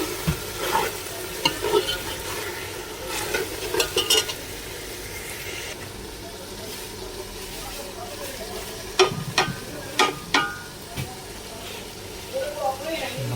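Spices frying with tomatoes in a pan, stirred in bursts of scraping against a steady background sizzle, with quieter stretches between, as part of a chana pulao being cooked.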